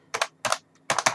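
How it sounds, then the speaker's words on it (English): Keys on a Sumvision semi-mechanical computer keyboard are typed in three quick bursts of sharp, close clacks with short pauses between them, crisp and fairly loud with no voices. "This is a keyboard test. And that's what the keys sound like."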